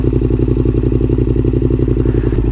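A Yamaha MT-07 motorcycle fitted with a baffle-less Mivv GP exhaust idles loud and close, a steady, deep, lumpy rhythmic burble with no voices over it.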